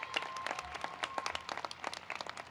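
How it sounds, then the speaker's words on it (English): Applause from the audience at a university new student convocation, many hands clapping in a dense, crackling burst that holds steady across the moment, fairly faint and roomy, without speech. "Can we get one more big round of applause?"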